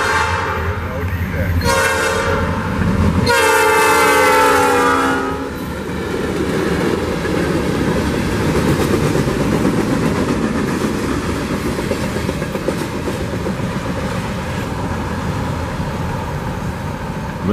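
A loud train horn blasts twice, then a short three-or-four-car train rumbles past close by on a short-line railroad in Niota, Tennessee, with steady clattering wheels that fade as it moves on.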